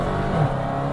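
A 707-horsepower Dodge Challenger Hellcat engine revs hard in second gear, a loud, close, continuous roar through one brief second.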